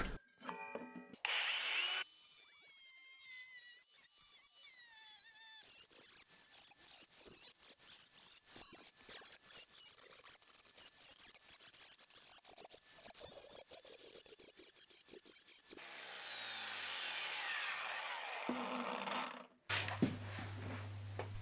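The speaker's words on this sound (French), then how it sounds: "Je retire les soudures pour faciliter la découpe." Power tool cutting out welds on sheet metal while building a rocket stove, whining and grinding close up with squealing bursts, bouts of harsh buzzing, and a loud surging stretch near the end.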